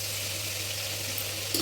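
Eggplant pieces fry uncovered in a pan with spices, a steady continuous sizzle over a low hum, without pause or talk.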